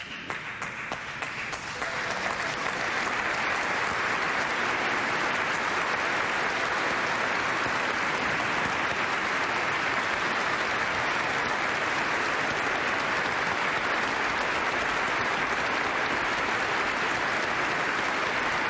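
Sustained loud applause from a large crowd at the 2001 national prayer service for 9/11, a dense continuous roar of clapping that swells in after a brief quieter start and holds steady.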